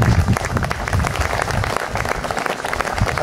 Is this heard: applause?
yes